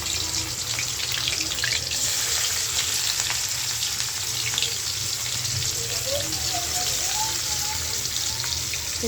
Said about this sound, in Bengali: তো মাছগুলো আমি ভাইজা নিই ভালো করে।